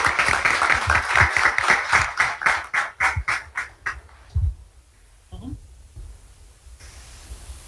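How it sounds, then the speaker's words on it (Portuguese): Audience at a university administrative council swearing-in ceremony applauds, a dense run of clapping that thins and fades out, followed by a few scattered claps and faint room noise. "Vamos aplaudir então o professor Ângelo Aparecido Priori"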